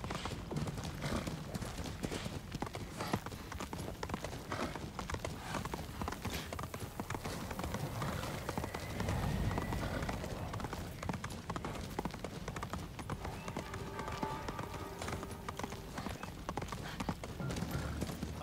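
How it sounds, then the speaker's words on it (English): Steady clip-clop of horse hooves at a trot on ice in Ghost of Tsushima, continuous and close, with a brief whinny partway through over a busy background. "I've never seen a horse actually riding on ice like this"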